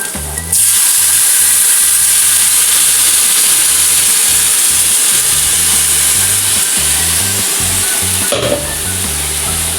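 A mixer grinder whirs steadily at close range while blending buttermilk in a hostel kitchen, loud and continuous for the full stretch with no talk over it.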